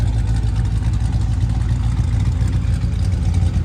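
A 1966 Chevrolet Chevelle with a fuel-injected V8 runs at a steady idle, a deep, loud, continuous rumble heard close and alone, with no voices over it.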